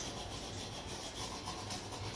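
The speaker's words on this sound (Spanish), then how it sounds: "Ahora vamos a tallar el plato." A brush scrubs a bicycle chainring during cleaning, producing steady, close, rhythmic abrasive rubbing strokes with no talking.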